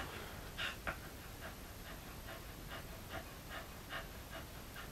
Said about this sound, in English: I don't know if you can hear my dog huffing and puffing